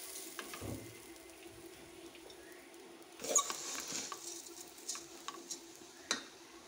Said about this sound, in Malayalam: ഈ റൈസ് നമ്മളൊരു 5 മിനിറ്റ് നല്ല ഫ്ലെയിമൊക്കെ കൂട്ടിയിട്ടൊന്ന് വറുത്തെടുക്കണം.